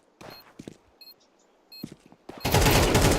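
Gunfire in Counter-Strike 2 comes in a few scattered sharp shots, followed by a dense, loud burst of rapid firing at the end.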